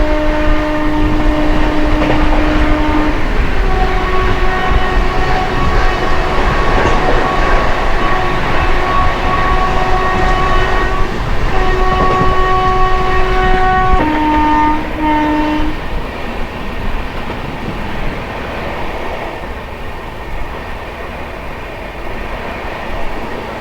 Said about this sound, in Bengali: আমাদের ট্রেন সাঁতরাগাছি থেকে ছাড়লো